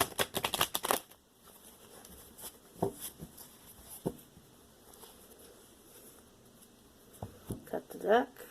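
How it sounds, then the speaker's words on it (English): A deck of tarot cards being waterfall-shuffled by hand, a dense riffling burst at the start followed by softer scattered taps and handling sounds, ending with another brief flutter of cards. "Then we'll do the waterfall shuffling again."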